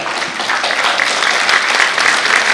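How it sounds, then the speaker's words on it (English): An audience applauds at a corporate awards ceremony, loud, sustained clapping from many hands in a large room with no talk over it. "I'm going to applaud for you, Christina."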